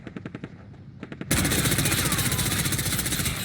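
AS VAL rifle in Warzone firing at a target 15 meters away, a few spaced test shots followed by a loud, continuous rapid-fire burst with clear rhythmic reports.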